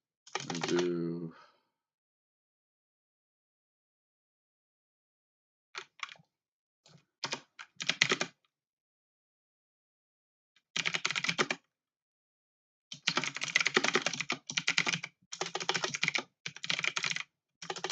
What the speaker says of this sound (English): Half the time when I press it, it double presses.